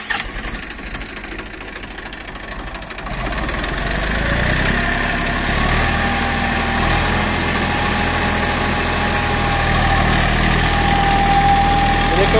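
A tractor driving a Shaktiman deluxe rotavator rumbles loudly and close, idling at first, then swelling after about three seconds into a heavier, steady working roar with a knocking, vibrating edge that continues to the end.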